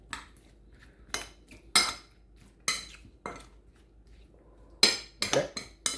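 Metal utensils clink and scrape against a bowl while a cucumber salad is mixed, a handful of separate sharp clanks spaced irregularly with quiet gaps between, close and fairly crisp.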